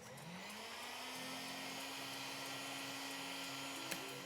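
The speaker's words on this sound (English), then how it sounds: "Using the heat gun, I'm just going to warm up the knife." A heat gun warms a knife blade for slicing chocolate, a steady close airy blowing hum with a low motor drone that runs evenly throughout, with no talking.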